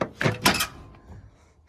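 The dented, dinged-up door of an old car with a faulty door shuts close by in two quick solid thunks, followed by a quiet fade.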